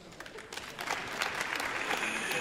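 A live comedy audience at a Danish stand-up warm-up show claps in a dense, steady patter that builds slightly over a couple of seconds, with faint crowd murmur underneath.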